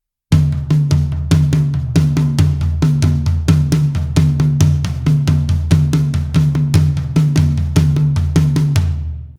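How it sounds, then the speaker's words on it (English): Drum kit playing a repeating flam groove, built from a Swiss Army triplet followed by a flam tap, with loud, steady, evenly spaced hits sustained for about nine seconds before cutting off. "our main flam groove that's comprised of a Swiss Army triplet followed by a flam tap"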